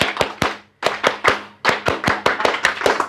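Scout rhythmic clapping (tepuk pramuka) by a group, loud, crisp hand claps in a patterned beat of quick triplets and pauses, close and without any talking.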